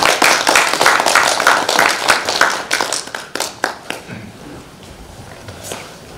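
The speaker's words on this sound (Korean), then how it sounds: "큰 박수로 맞이해 주시기 바랍니다." An audience applauds to welcome a guest lecturer, a dense patter of many clapping hands that rings loudly at first, then thins into scattered claps and fades away.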